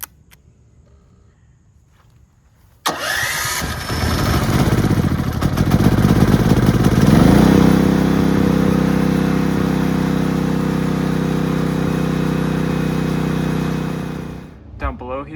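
After a quiet start, a standby generator cranks and fires up with a sudden loud burst, then settles into a steady droning engine hum for over ten seconds before shutting down near the end.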